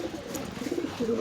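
Domestic pigeon in a home loft cooing, a soft low warbling coo that repeats through the moment, close by and moderately quiet with faint background noise.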